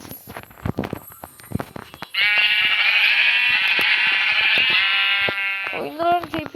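A long, loud, wavering bleat of a sheep in a farming video game stands out after a series of clicks and knocks, followed by a second shorter bleat.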